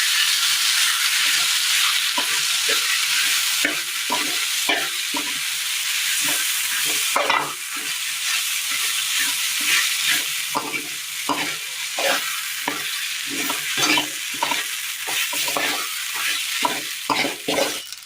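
Washed, squeezed broken wheat is stirred into fried onions in a pan during a Kerala recipe, giving a continuous loud sizzle broken by repeated scraping strokes of the spoon at a steady rhythm.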